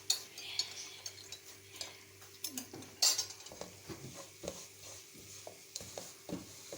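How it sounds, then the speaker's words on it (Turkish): A spoon stirring semolina halva in a pot, giving irregular scraping and light clinking strokes against the metal, close but quiet, with soft kitchen background and no speech. "Şimdi irmiğim de renk alana kadar karıştırayım"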